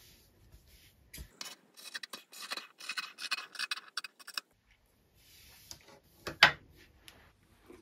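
Scissors cut a fabric dress placket open along its centre line, a run of close, crisp snips and rasping slices in quick succession, then a pause and a few more cuts, with no talking.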